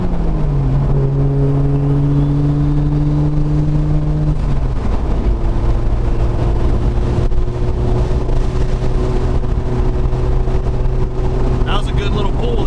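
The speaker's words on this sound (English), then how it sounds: "Wastegate sounds amazing." A tuned car with a turbo wastegate pulls hard on the street, with a loud engine drone rising in pitch, a shift, then a second climb, heavy wind buffeting throughout and a faint hiss near the end.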